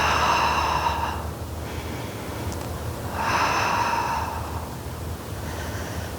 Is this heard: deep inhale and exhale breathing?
yes